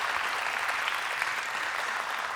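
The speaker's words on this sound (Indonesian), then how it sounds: "Tepuk tangan buat para pendukung kita." Audience applause for supporters at a colossal musical drama performance, a continuous even patter of many hands, fairly close and sustained.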